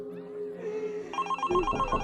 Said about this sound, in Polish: Dzwoni telefon.